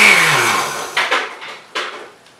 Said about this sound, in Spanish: Y es en la licuadora, así miren.